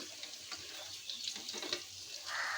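Lentil fritters frying in oil in a wok, a quiet crackling sizzle with light scraping taps as they are turned, a brighter hiss rising toward the end; no voices.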